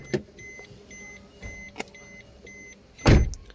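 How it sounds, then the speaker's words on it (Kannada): Power windows on a 2019 Maruti Suzuki Swift whirring up and down in several short, repeated motor runs with soft clunks between them, ending with a louder thump, heard close and clear. "ನಾಲ್ಕಕ್ಕೂ ನಾಲ್ಕು ಪವರ್ ವಿಂಡೋ"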